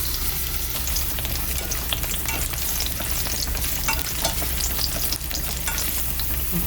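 A generous pour of oil sizzles and crackles steadily in a frying pan while basil pasta with garlic and cod is being cooked, with a continuous bright hiss and no talking.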